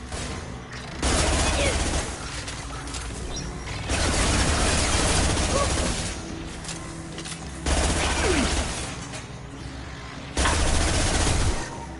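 Bursts of automatic gunfire in the video game Mass Effect 2, several loud sustained volleys separated by quieter gaps with mechanical clatter.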